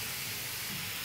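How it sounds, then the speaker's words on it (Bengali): Cumin paste hits a hot pan, giving a dense, steady hiss of sizzling oil, loud and close, lasting about a second with no speech. "আমি এখন এখানে দিয়ে দিচ্ছি জিরা বাটা"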